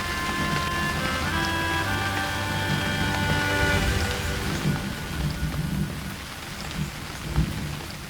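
Heavy rain pours steadily in a loud, dense wash, with low rumbling thunder rolling beneath it and no voices.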